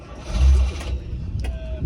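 A 1978 car engine with a blowing exhaust cranks and catches, a low rumble swelling briefly before settling into a very quiet idle, with a faint voice-like murmur in the background.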